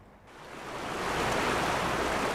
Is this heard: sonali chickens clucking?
no